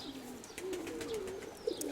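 A pigeon in a dovecote gives a faint, low, drawn-out coo, with a few light chirps and soft background noise around it.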